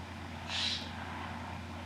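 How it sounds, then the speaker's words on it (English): A single loud bird call outdoors, one short shrill burst lasting under half a second over a low steady hum, then quiet. "That is one loud bird."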